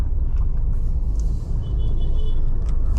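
A car pulls away from a full stop as the clutch is released with no throttle, running on E20 petrol with the AC on; a steady low engine rumble holds throughout, close and even, with no rise in revs.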